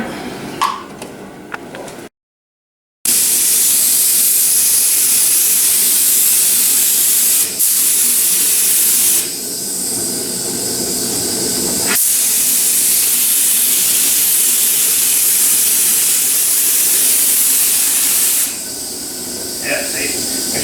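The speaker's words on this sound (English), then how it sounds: "Make sure you pick a real good gun that won't shut off. So it just sprays all the time." A paint spray gun blasts primer onto a plastic bumper cover in a loud, steady hiss close by, cut off once briefly near the start and changing pitch slightly between passes, with talking heard at times.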